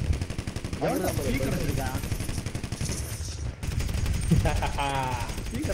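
Rapid automatic minigun fire from a GTA 5 gameplay session, a dense, continuous rattling burst that runs through most of the clip and sits under excited, overlapping talk and laughter.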